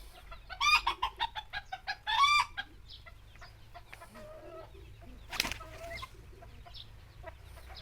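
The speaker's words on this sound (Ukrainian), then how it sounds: "О, заспівав бентам." A rooster crows nearby in a quick series of strained, high calls, followed by scattered clucks and farmyard bird sounds at lower volume.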